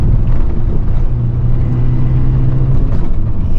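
Citroën AX GTI driven hard along a curvy road, its engine a loud, steady, close droning hum with a rough rumbling edge that holds evenly throughout, with no talking.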